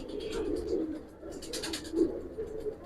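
Several giribaj pigeons coo steadily in a loft, low rolling calls overlapping at close range, with light flutter and rustle between them.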